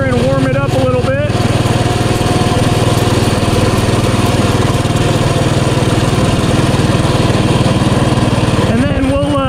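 A Coleman CT200U mini bike with a stage 1 performance kit and governor bypass cruises along, its small engine droning loud and steady throughout, with a brief voice heard near the start and end.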